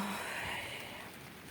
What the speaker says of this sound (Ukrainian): Чуєте, дощ накрапає.